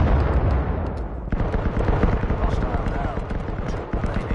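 A grenade goes off in the video game Firewall Zero Hour with a sudden, loud, sharp blast, followed by a few seconds of rumbling, crackling combat noise.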